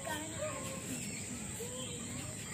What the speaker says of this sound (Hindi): चिड़ियों की आवाज़ सुनाई दे रही होगी आपको